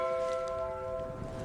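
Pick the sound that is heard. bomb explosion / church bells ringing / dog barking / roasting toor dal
church bells ringing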